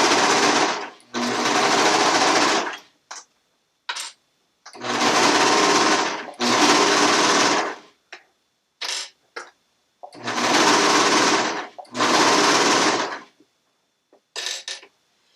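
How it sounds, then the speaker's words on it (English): A serger sewing machine runs over fabric in loud, steady bursts of about a second or two each, with short stitching spurts and silent pauses between them. "And so we are going to start serging."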